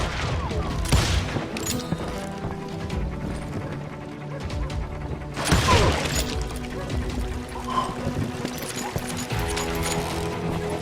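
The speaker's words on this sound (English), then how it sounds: "They're shooting in the street!" Gunshots ring out along a frontier town street in the Western shooter Call of Juarez: Gunslinger, sharp cracks scattered over a busy bed of music and clatter, with a couple of louder bursts.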